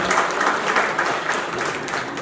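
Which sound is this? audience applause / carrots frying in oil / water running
audience applause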